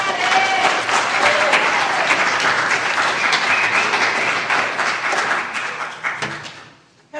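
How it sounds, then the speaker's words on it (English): Congregation applauding their pastor at an annual church meeting, loud sustained clapping that holds steady and then tapers off at the end. "Give her a round of applause."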